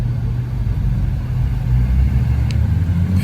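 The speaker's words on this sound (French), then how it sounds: "Très belle Ferrari FF blanc mat qui arrive." A matte white Ferrari FF approaches on a street in Monaco, its engine a steady low rumble that swells slightly as it draws nearer.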